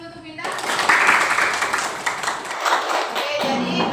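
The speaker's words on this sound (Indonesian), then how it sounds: "Tepuk tangan dulu untuk Minda" Students in a classroom clap together briefly, a dense burst that starts abruptly, peaks, then thins out as a voice comes through underneath.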